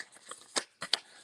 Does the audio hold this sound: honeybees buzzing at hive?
no